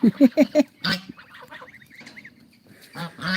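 A goose honks in a quick run of four loud calls, then lets out a few more scattered honks, near and harsh.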